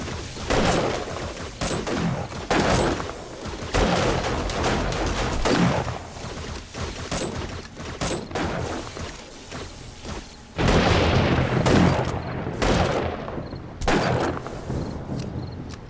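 Rapid, loud gunfire cracks and booms in repeated volleys while shooting zombies during a horde night in the game 7 Days To Die, the shots packed closely with hardly a pause.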